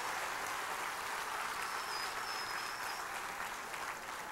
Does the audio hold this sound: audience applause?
yes